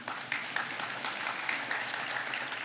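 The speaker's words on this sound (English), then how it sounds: "Time for a little bit of a hand clapping, a foot stomping." An audience at a main-stage expo session claps together, a continuous, fairly loud patter of many hands with small surges, heard alone without talk.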